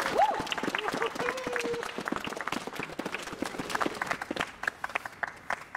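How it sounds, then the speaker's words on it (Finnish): Audience applause for political party speakers at an outdoor rally, brisk clapping from a moderate crowd with sharp individual claps, briefly overlapped by a voice and some cheering early on. "Iso aplodit vielä heille kaikille."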